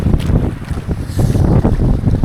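Loud, buffeting wind roars across the microphone with rushing, churning water of waves at sea during a micro jigging fishing trip, continuous and close.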